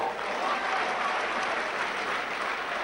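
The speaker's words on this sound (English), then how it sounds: "Derek Fox there just receiving the applause of the crowd" Crowd applause at a Bradford versus Warrington rugby league match, a steady wash of distant clapping from the stands.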